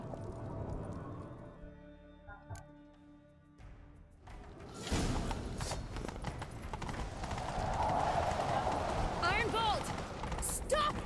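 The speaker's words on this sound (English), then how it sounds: "Grab a horse, we'll chase him down." Rhythmic hoofbeats of a galloping horse in The Witcher 3 pound under spoken dialogue, joined by whooshing movement and a brief whinny near the end.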